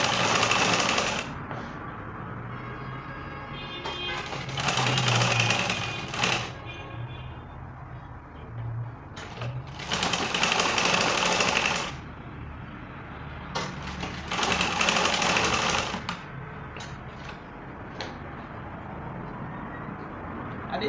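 A sewing machine runs stitching net fabric for a bustier gown, in several bursts of rapid mechanical whirring separated by short pauses, loud and close with a steady motor hum between runs.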